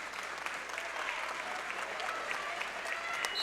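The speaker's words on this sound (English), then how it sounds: "Applause for Cushman as they take him out of the gym." A high school wrestling tournament crowd in a gym applauds an injured wrestler, steady continuous clapping with a faint murmur of voices underneath.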